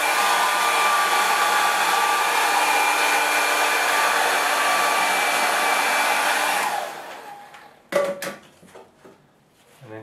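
A hair dryer blows steadily and loudly for about seven seconds to dry a watercolour landscape painting, then cuts off, followed by a few light clatters and handling sounds.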